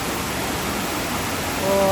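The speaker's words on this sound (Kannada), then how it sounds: "ನೀರು ಇಲ್ಲಿ ರಭಸದಲ್ಲಿ ಬರ್ತದೆ ನೋಡಿ" A stream rushes in a steady, dense hiss close by at Pilikula, with a faint voice briefly rising at the end.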